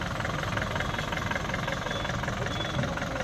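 A decorated Tempo Traveller van, readied for a pilgrimage trip to Sabarimala, idles with a steady, loud low rumble and a slight knocking vibration, with no voices.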